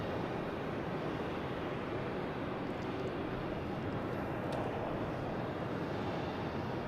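A British Airways airliner roars at dusk near Logan Airport, a broad steady engine rumble heard from a distance with wind-like hiss and no clear change across the stretch.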